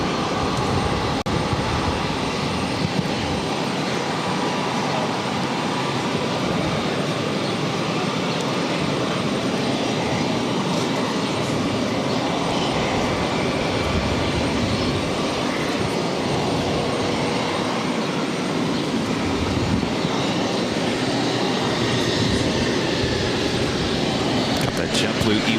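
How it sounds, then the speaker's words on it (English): A JetBlue Embraer E190 jet taxis toward the gates at Boston Logan airport, its engines giving a steady, loud broadband roar and whine that holds constant throughout, with no voices over it. "JetBlue E190 now heading into the gates"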